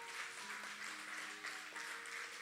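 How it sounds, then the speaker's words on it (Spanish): Faint, thin applause from a church audience during a sermon, a soft patter of clapping that stays low and even for a couple of seconds, with a faint tonal hum beneath. "eso merece un aplauso."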